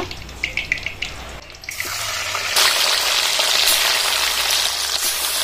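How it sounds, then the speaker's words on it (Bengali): Bata fish frying in hot oil, a steady broadband sizzle that swells louder partway through after a few sharp crackles and spatters, close and continuous with no talk. "বাকি মাছগুলো এইভাবে ভেজে নেব।"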